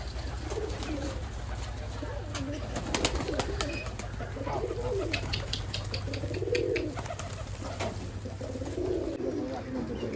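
Giribaj pigeons at a home loft, with soft cooing and intermittent wing flaps over a steady low hum, moderately close.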